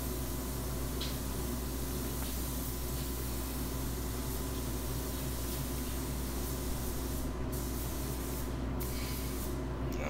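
Spray gun laying an even coat of candy paint over a bare metal art sign, a continuous loud airy hiss with brief pauses near the end, close and alone without voices.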